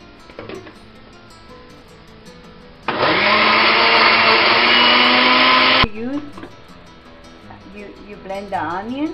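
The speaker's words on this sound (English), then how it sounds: "You blend the onion." A kitchen blender whirs loudly as it blends onion for homemade tomato sauce, a steady high-powered roar lasting about three seconds, with quieter kitchen sounds and a voice before and after.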